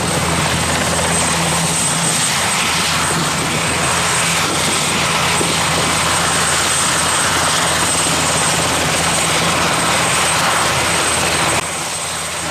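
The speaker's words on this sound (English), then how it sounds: "And boy, even choppers landing close to our stall." Helicopters land close to a stall at a militaria fair marking 80 years since Operation Market Garden, a loud continuous rotor and engine roar that fills the whole stretch with no break.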